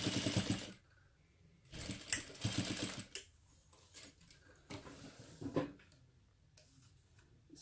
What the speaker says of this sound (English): Here the whole time I've been sewing